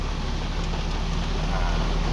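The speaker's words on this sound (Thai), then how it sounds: "ท่ามกลางสายฝนโปรยปลายตลอดเวลา" Rain falling steadily through a shaded forest, a dense continuous hiss of drops on leaves at even loudness with no talk.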